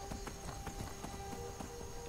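Steady, rapid hoofbeats of a trotting horse in Skyrim, evenly paced and close, over a constant electronic hum and tonal game music.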